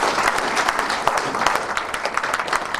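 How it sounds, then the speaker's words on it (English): Sustained applause from a standing crowd at an inauguration, many hands clapping steadily and fairly loud throughout, with no one speaking over it. "I request you all to welcome him by giving a big applause in standing ovation"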